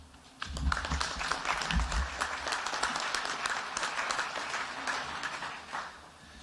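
Audience applause at a high school graduation ceremony, a full round of clapping that swells suddenly and holds steady, with scattered sharp claps standing out near and far and a little low rumble early on.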